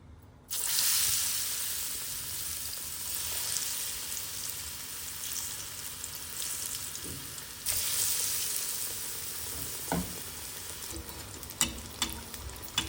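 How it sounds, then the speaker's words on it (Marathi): Ridge gourd slices coated in batter deep-fry as bhaji in hot oil, giving a loud, steady sizzle that jumps in at the start and swells again midway, with a few sharp pops and clinks of stirring near the end. "आता आपण ते पीस टाकणार दोडक्याचे काप आणि त्याच्या भजी करणार"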